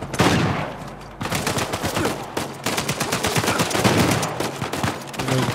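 Heavy gunfire in Uncharted 4 A Thief's End during a graveyard firefight, with sustained rapid automatic bursts and overlapping shots filling the whole stretch, loud and continuous with only a brief lull.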